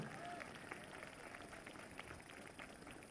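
A church congregation at a prayer service claps hands in a steady, repeated rhythm. The clapping is faint and distant beneath a low background hum.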